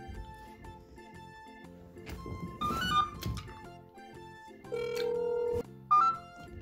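An outgoing phone call rings while waiting for an answer, faint and repeated tones with a few thunks, quiet and close, with no speech.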